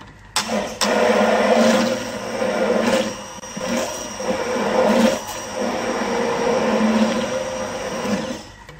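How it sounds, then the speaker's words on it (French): A blender whirs loudly as it mixes ingredients into a smoothie, a steady motor roar with several surges and dips in pitch as the load shifts, running close and alone. "Et ensuite, je viens mixer le tout."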